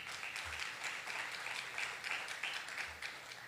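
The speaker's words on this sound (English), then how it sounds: "It's one of our partners that started our clapping session." A conference audience applauds steadily at an investors' roundtable in Lagos, a dense wash of clapping that holds at moderate loudness through the whole stretch with no break.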